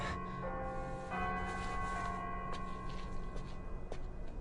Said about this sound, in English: It's the evening chimes.